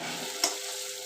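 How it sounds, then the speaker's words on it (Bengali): Spice masala for a chicken and potato curry sizzles steadily while it is stirred and fried in a pan, with one brief scrape of the utensil partway through. "এবার এই মশলাটাকে কষতে হবে।"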